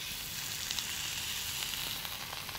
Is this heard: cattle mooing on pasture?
no